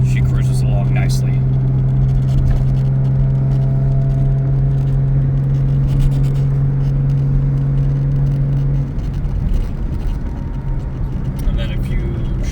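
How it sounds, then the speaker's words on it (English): A 1985 Jaguar XJS cruises at about 60 in fourth gear, its engine giving a steady, loud rumble and whir with a constant tone that eases off near the end, heard from inside the cabin. "We're sitting at about 60 in fourth gear, and she cruises along nicely."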